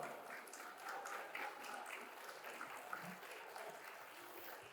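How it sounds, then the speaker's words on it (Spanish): A conference audience on LGBT and gender topics gives sustained applause, a dense, fairly quiet patter of clapping that holds steady for several seconds. "Otro fuerte aplauso, por favor."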